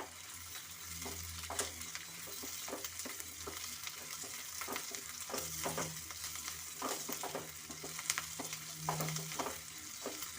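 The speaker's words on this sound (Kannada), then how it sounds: "ಇದಕ್ಕೆ ಹಸಿ ಕೊಬ್ಬರಿ ಮತ್ತು ಕಾಜುನ ಸೇರಿಸ್ಕೊತಾ ಇದ್ದೇನೆ" Fresh coconut and cashews frying and being stirred in a pan for an egg gravy, a steady sizzle broken by repeated scraping strokes of a spoon across the pan's base, close and continuous with no talking.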